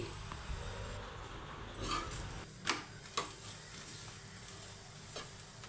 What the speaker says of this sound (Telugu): మరొక సైడు కూడా తిప్పి వేసుకొని రెండు వైపులా బాగా కాల్చుకోండి.